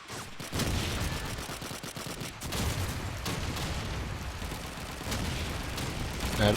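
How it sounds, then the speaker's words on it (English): Gunfire in Call of Duty 2 during a competitive match, dense rattling bursts of automatic weapons and sharp reports that come thick and loud, with a few heavier booms mixed into the din. "Hatton is gonna open up with 2 amazing frags, downing Lance and Viagor"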